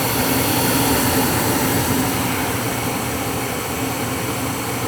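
An American Standard gas furnace burner, fitted with a new hot surface igniter and a cleaned flame sensor, roars steadily as a broad, loud, constant rush with no pauses or talk.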